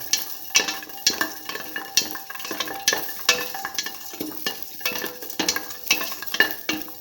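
Shallots with salt frying in a pan, a steady close crackle with frequent clicks and scrapes of a utensil stirring them.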